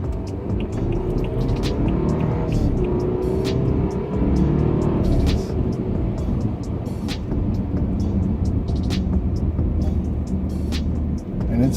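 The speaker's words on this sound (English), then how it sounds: "it sounds really, really good from inside the car" Engine of a 2013 BMW 328i xDrive heard from inside the cabin on smooth tarmac, a steady low drone with rising and falling revs, plus occasional clicks and knocks.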